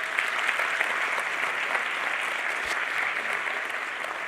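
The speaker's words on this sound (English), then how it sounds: "Can I have a round of applause for them, please?" A crowd in an auditorium at the IAU General Assembly 2024 claps steadily throughout for a cultural ensemble, a dense and even round of applause with no break.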